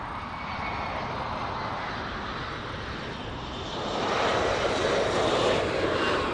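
Airliner taking off from runway 24 Left at LAX, heard from a distance: a steady roar of jet engines that swells louder toward the end, with no talk.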